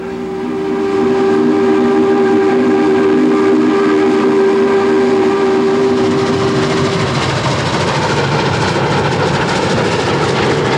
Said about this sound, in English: They like to make the whistle talk.